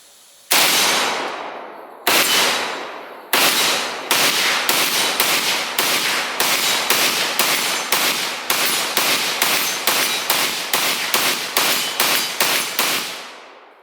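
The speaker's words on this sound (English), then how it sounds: "Trying to be sneaky and let it bump fire." An AK-47 rifle bump firing during a magazine function test: a few spaced shots, then a fast, loud, uneven string of gunshots at close range with no talk.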